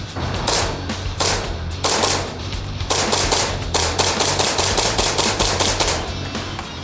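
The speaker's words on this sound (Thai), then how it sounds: "เดี๋ยวเราลองยิงเลยดีกว่า" Rapid bursts from a Taran Tactical Pit Viper airsoft pistol being test-fired, a run of sharp, loud clicking shots in quick groups with short pauses between volleys, close to the mic.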